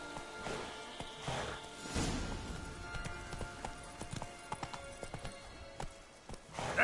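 Roach, a horse in a video game, gallops with quick rhythmic hoof clip-clops over a whooshing background, fairly near and moderately loud, with brief sharper hits toward the end.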